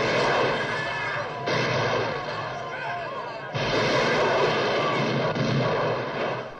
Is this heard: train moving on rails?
no